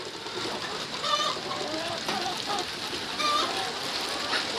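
Drakes being fed grain on a farm, with quacks and rustling scattered grain mixed into a busy outdoor background, while a person talks nearby.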